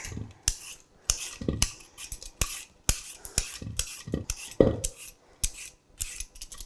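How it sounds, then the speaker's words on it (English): A regular hand peeler scrapes along a sweet potato's thin skin in quick, rhythmic strokes, each stroke a sharp close scrape followed by short pauses, repeated about a dozen times with no talking. "So for sweet potatoes, you can just use a regular peeler."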